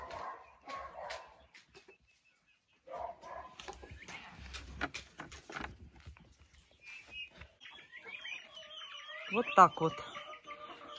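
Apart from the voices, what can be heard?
turkeys walking and clucking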